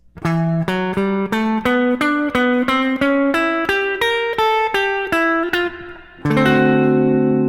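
An electric guitar plays a quick jazz blues single-note lick, steadily picked notes climbing upward before ending on a sustained chord.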